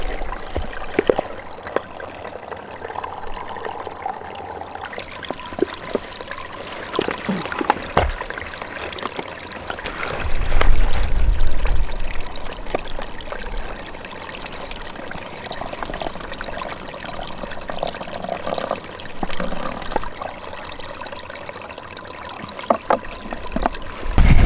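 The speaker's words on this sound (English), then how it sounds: "I am at the stream right now, which is really cool to me" Running water of a mountain stream on an elk hunt in Utah, a steady close wash and trickle with a brief louder rush partway through, alone without talk.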